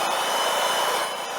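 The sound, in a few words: Milwaukee M18 compact blower blowing damp leaves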